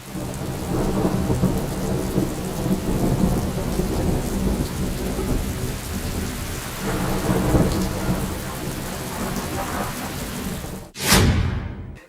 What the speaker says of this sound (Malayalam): മരുഭൂമിയിൽ മഴ പെയ്തപ്പോൾ ഗൾഫിലെ പെരുമഴക്കാലം.